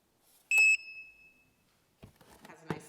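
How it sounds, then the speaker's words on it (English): A Kiara Sky Beyond Pro LED gel curing lamp gives one short, clear electronic timer beep in a quiet room, followed a moment later by faint rustling and handling sounds. "Has a nice little beep to let you know that the time is up or that the client has moved their hand from the light"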